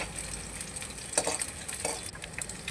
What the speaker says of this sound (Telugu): ఫస్ట్ ఆయిల్ వేసుకుని ఎండి రొయ్యలు వేపుకోవాలి.